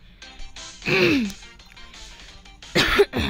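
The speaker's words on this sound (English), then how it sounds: "There's been coughing a lot lately." A person clears their throat and coughs twice, close and loud, with a brief pause in between.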